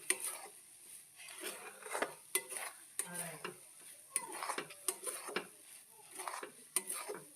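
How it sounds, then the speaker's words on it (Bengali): A spoon stirs semolina dough with ghee in a pan on the stove, making repeated scraping, tapping strokes against the pan in an irregular rhythm, close up and fairly quiet, with no talking. "আবারও ভালো করে নেড়ে চেড়ে মিশিয়ে নেব।"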